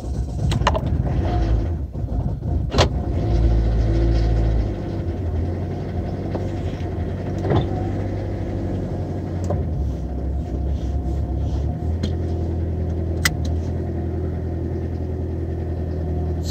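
A Citroen Xantia idling while its suspension slowly raises, a steady low engine rumble with faint mechanical whirring and occasional clicks, continuous and close, without speech.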